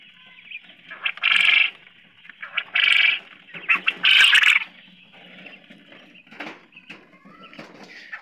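Caged white quail call in loud bursts of harsh, repeated cries, several close, overlapping sequences separated by softer chatter and rustling.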